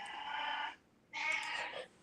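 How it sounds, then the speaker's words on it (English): A cat meows twice, two loud, close calls separated by a short pause, with no talk over them. "That's one of my crazy cats."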